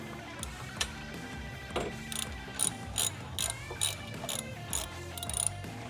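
A ratchet backs bolts out of a Harley-Davidson engine guard, close and clear: bursts of quick clicking pawl strokes come in several separate runs, with short pauses between them.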